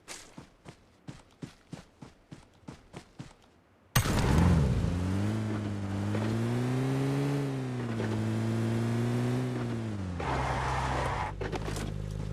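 A car driven in PUBG Mobile Lite: evenly spaced footsteps give way abruptly to a loud, close engine drone that rises and falls in pitch for several seconds.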